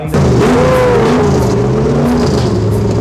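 A car engine revs loudly and steadily at the Dubai Motor Show 2019, where a live car auction is under way; the roar holds high and close for the whole stretch with no speech.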